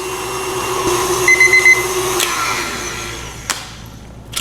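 A stand mixer with a whisk attachment beats butter and sugar for browned butter chocolate chip cookies, a loud, steady motor whir with a faint whine, ending with a brief clunk.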